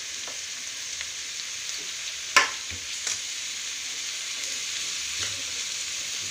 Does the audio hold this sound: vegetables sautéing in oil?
yes